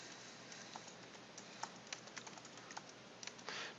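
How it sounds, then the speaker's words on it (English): Keys clatter on a computer keyboard in quick, irregular bursts of soft taps, faint and close over a quiet room hiss, with no voices. "Now when I type over the top of these"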